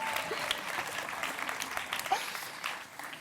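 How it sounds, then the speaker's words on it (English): An audience claps at a gala awards ceremony, a dense, steady wash of applause from many hands filling the room, fairly loud, with some voices faintly underneath. "a big round of applause"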